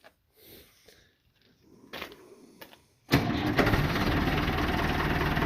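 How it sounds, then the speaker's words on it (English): A Ford backhoe's rebuilt engine starts after a few quiet clunks and then runs loud and steady nearby, a continuous close mechanical drone. "the motor's still running really good on this Ford"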